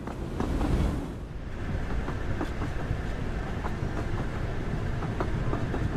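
A train in the video game Duet Night Abyss rolls along with a steady, loud rumble and regular rhythmic clacks from the wheels, continuous and close throughout.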